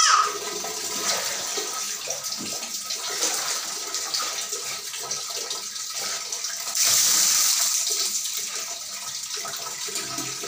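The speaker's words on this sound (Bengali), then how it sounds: "পায়ে জল দাও, পায়ে জল দাও। হ্যাঁ, এবার মাথায় জল দাও" Water poured over a small child's legs and head during a bath, a steady splashing and running-water wash that swells louder near the end, with faint voices in the background.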